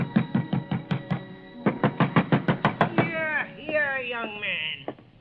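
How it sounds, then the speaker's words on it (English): Fist pounding on an apartment door in a radio drama: a rapid series of about a dozen hard, close knocks in uneven bursts, followed by a tonal musical sting. "But ringing his bell and pounding on his door got me nothing."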